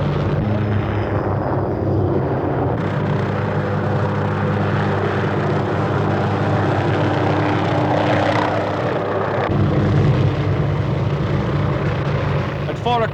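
Steady low rotor and engine drone of four Cobra helicopter gunships overhead in Vietnam, 1969, loud and continuous, with a faint voice briefly underneath.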